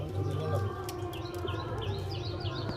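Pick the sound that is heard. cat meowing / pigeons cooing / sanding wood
pigeons cooing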